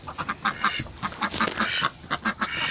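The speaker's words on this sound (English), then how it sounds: "Oh, it's my new duck." A new duck kept with chickens in a coop quacks repeatedly in quick, loud, close bursts, a rapid string of nasal calls with short pauses between.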